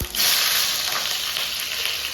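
Loud, steady sizzling of vegetables hitting hot oil in a kadai for kadai paneer, a sharp crackling hiss that starts abruptly and continues without pause.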